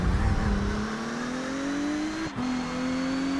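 Race car engine in DTM Race Driver 3 revs loudly and climbs steadily in pitch as the car accelerates out of the pit lane, with a brief dip near the end before pulling on again.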